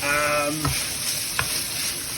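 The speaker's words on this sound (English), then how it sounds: "you need to set your frying pan to fan bake 180 and you need to cook up that mince" Mince fries loudly in a pan, a dense continuous sizzle close up, with a brief tonal sound at the start.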